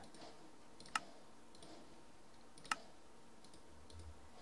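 Computer keyboard keys pressed, with two sharp distinct clicks standing out over faint softer key taps and quiet room tone, close and alone without speech.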